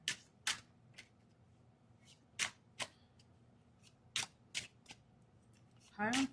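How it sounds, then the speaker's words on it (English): Tarot cards are shuffled by hand in quick, crisp bursts separated by quiet pauses, close and clear, ending in a longer riffle. "Let's shuffle these cards pretty good."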